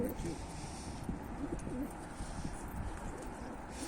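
Pigeons coo softly and repeatedly against a busy, noisy background, with people talking nearby.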